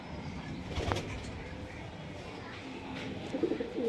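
Breeding pair of pigeons cooing at a home loft pigeon sale, low soft coos with a brief rustle and background murmur, faint and steady.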